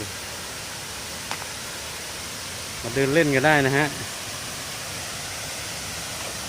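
Steady broadband rush of an artificial waterfall in a city park, constant and fairly loud throughout, with a voice talking briefly over it in the middle.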